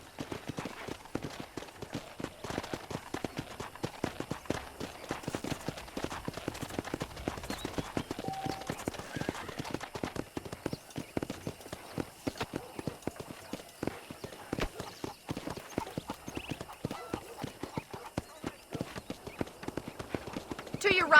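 Horse hooves clip-clop in a steady walking rhythm inside the Red Dead Redemption game, close and continuous with occasional faint creaks.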